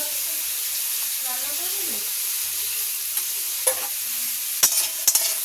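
Pumpkin pieces with salt and turmeric being stirred in a frying pan over a gas flame, a soft steady sizzle with a few sharp metallic scrapes and clinks near the end, close by, with a faint voice in the background.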